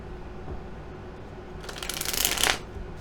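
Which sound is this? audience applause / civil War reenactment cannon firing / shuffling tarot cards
shuffling tarot cards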